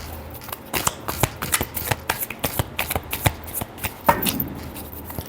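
Tarot cards being shuffled by hand: a quick, steady run of crisp riffling flicks and slaps, close and clear, with no talking.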